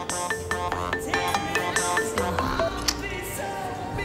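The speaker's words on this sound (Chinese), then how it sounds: "接个电话。" A phone ringtone plays for an incoming call, a bright repeating electronic melody with regular rhythmic pulses, loud and steady throughout with no talking over it.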